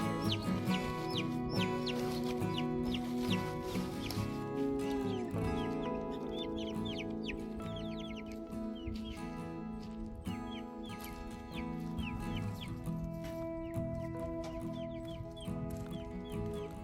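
Chickens cluck and squawk on a farm in a steady, busy stream of calls that runs the whole time, mixed with a dense, tonal background.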